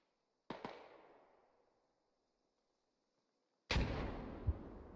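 Explosions in a military video game battle: a sharp pair of blasts with a fading tail, then after a quiet gap a second, louder boom with a long rumbling decay.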